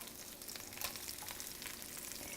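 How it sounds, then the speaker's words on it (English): Onions breaking up as they fry in oil in a stir-fry pan for a weeknight chicken stir-fry, a steady soft crackling sizzle heard close and alone, with no voices. "start cooking the vegetables. So I'm going to start with the the onions"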